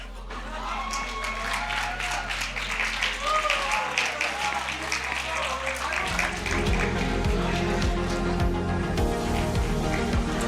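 A crowd claps and cheers for the Hebron team at a Texas high school state championship awards ceremony, a sustained wash of applause with a voice talking over it.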